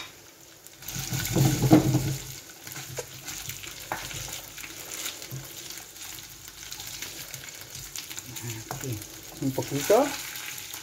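Morcilla sausage with onion fries in a pan with a steady, close sizzle, swelling in a couple of bursts as it is moved around. A voice speaks briefly.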